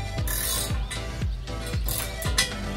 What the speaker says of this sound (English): We're just gonna go ahead and screw this grease fitting in just over here using a 7/16 wrench.